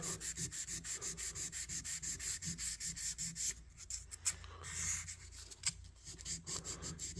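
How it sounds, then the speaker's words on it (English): Sandpaper is rubbed by hand over the back springs of a vintage pocket knife, giving close, steady rhythmic scratching strokes that turn briefly irregular before the rhythm resumes. "we can start with some sandpaper here"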